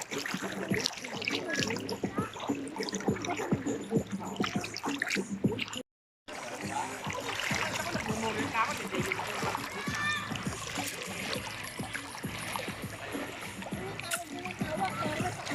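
People bathing in a river at a camp in Tanay, Rizal, with continuous splashing and gurgling water close by under steady chatter and voices, briefly cutting out once.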